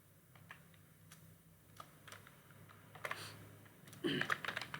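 Typing on a computer keyboard while entering table text in Microsoft Word, soft scattered keystrokes at first that turn into denser, louder bursts of clicking toward the end, close by with no talking.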